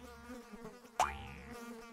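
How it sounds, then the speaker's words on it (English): A pesky fly in a children's cartoon buzzes around, a steady droning whine that sweeps in pitch and jumps briefly louder partway through, heard alone without speech. "Buzz off, you pesky fly."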